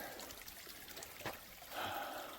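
A small side creek trickles through a gully in a Georgia gold prospecting area, a soft continuous watery babble with brief splashy surges, heard close and alone.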